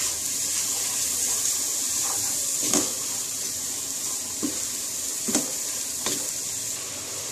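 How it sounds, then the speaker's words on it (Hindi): Haleem masala fried with chicken and beef sizzles steadily in a pan, a constant hiss broken by a few sharp scrapes and clinks as it is stirred. "इसको भूनेंगे चिकन और बीफ के साथ।"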